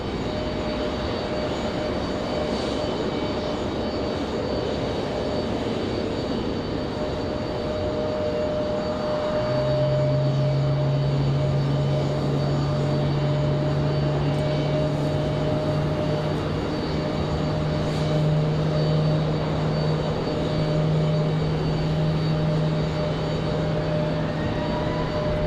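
A United Airbus A319 jet departing Raleigh-Durham airport, a steady broadband engine roar building from a distance with a low tonal hum rising midway, sustained without talk.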